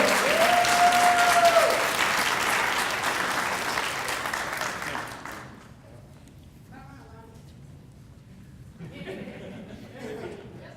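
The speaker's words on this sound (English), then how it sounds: "So if we give them a round of applause" Audience applause at a recognition ceremony, loud and dense for about five seconds, then fading to scattered claps with some chatter and light laughter.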